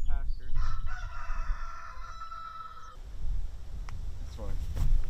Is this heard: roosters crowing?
yes